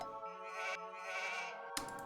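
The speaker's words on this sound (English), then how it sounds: "Oh, there's some sheep." A single drawn-out sheep bleat from the video game Age of Empires 2 wavers for under two seconds, clear and close, then ends in a short click.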